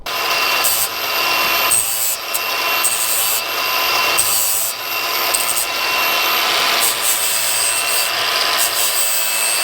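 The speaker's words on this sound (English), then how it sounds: "the angle grinder with me, and I've got some flappy paddle discs, which was the best fit" Angle grinder fitted with flap discs smoothing a metal part so a bearing will fit, a steady loud abrasive rasping with several brief pauses and changes in pressure, heard alone.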